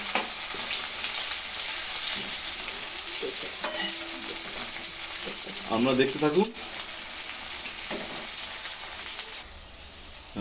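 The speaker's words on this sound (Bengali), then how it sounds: "এবার লাল লাল পেঁয়াজটা ভাজা হয়ে গেল" Onions frying and being stirred in a pan, a continuous close sizzle with scraping stir strokes and a few clinks, with brief speech partway through.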